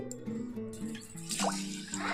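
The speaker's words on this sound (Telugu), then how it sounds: "రెండు కప్పులు వాటర్ వేసుకుంటున్నాను" Water is poured onto split black gram lentils in a pressure cooker, giving a brief close burst of drips, plops and splashing liquid, fairly quiet and without talk.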